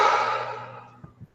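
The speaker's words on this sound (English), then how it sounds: "I hear a heavy breather." A single long heavy exhale close by, fading gradually over a second, followed by a couple of faint soft thumps.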